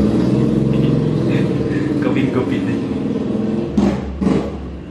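Motorized tricycle passing along a road: a mid-pitched engine rumble swells under continuous nearby talking, with brief louder bursts as it goes by.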